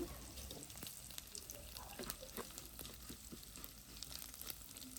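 Fenugreek seeds drop into hot oil and fry with a faint, steady sizzle and sparse tiny crackles and pops, quiet and continuous throughout.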